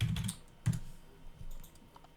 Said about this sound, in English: I can kind of type this into the search bar and show you guys the website